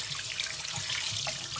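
Tap water runs steadily in a sink while raw chicken wings are washed, a continuous close splashing hiss with no talk.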